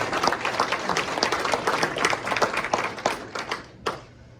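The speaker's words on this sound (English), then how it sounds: "we owe them a big round of applause" An audience at a general business meeting applauds for several seconds, a dense patter of many hands clapping at moderate volume before tapering off at the end.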